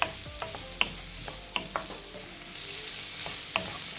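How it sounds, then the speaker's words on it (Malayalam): Frozen green peas and chopped carrots sautéing in a pan for vermicelli pulao, a gentle continuous sizzle broken by several crisp clicks and scrapes of a spoon, close up with no voices. "2 മിനിറ്റ് നേരം ഇതിലിട്ടിട്ട് നമുക്ക് വഴറ്റിയെടുക്കാം"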